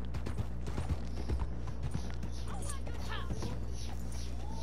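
Horse hooves clip-clop steadily in Red Dead Redemption 2 Online during a legendary bounty hunt, a repeated mid-level trotting rhythm under game ambience and intermittent talk.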